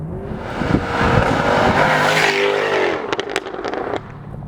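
A powerful car engine roars and revs hard, rising in pitch, then drops to a burbling idle with a few sharp crackles at the end.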